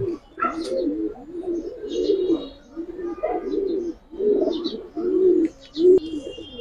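Grizzle pigeons coo up close in a loft, repeated low rolling coos in a loose rhythm, one after another, with a few faint higher chirps scattered between them.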